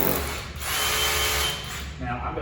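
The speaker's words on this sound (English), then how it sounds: "Now I've got the depth set relatively shallow because I didn't really want to drill a hole in the wall here" A hammer drill in hammer mode bores a shallow hole into a concrete block masonry wall, running loud and steady for about two seconds before easing off near the end.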